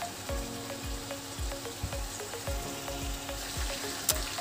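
Chicken teriyaki frying in a pan gives a steady, close sizzle broken by a regular run of soft popping thumps, with no one talking.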